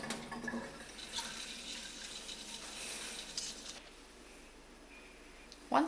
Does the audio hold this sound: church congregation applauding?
no